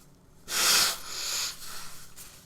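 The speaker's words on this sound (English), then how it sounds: "I'm going to blow my nose." A person blows their nose in one loud, breathy, hissing burst lasting about half a second, followed by a longer, softer blow and a few faint sniffs, close to the microphone.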